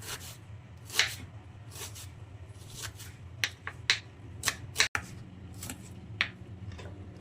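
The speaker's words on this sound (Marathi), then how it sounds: "कांदा आहे ना आपण बारीक नाही का कापून घेणार आहे." Onion being finely chopped with a knife for a village-style bombil (dried Bombay duck) chutney: a run of sharp, separate cuts at uneven intervals over a low background hum, with no talking.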